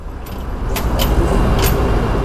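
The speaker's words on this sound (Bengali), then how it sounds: "রানাঘাট রেল ব্রিজটা টপকানোর পর এইরকম ট্রাকের জ্যাম" Steady, heavy road roar from a truck traffic jam just past the Ranaghat rail bridge on a bike ride from Kolkata to Siliguri, with engines idling close by and faint metallic jingles.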